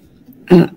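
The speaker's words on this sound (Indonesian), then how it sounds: "Saya agak sedikit batuk." A single short, close cough from a lecturer, sharp and loud after a faint murmur.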